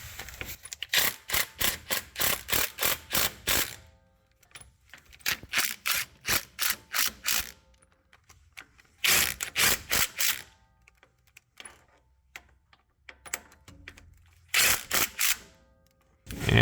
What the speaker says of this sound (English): Then we can use the 15mm socket to snug these down before using the torque wrench.